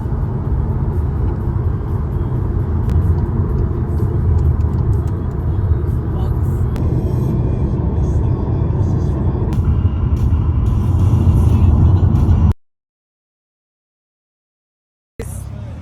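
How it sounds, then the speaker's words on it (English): A car drives along a road in Sweden, with a steady, loud engine and tyre rumble that holds for about twelve seconds and then cuts out abruptly to silence before resuming briefly. "I'm driving in Sweden."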